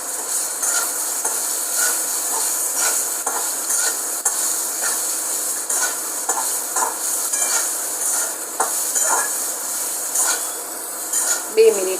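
A spoon scrapes and stirs chopped potatoes with salt in a hot pan, soft sizzling underneath irregular clinks and scrapes against the metal, close and continuous.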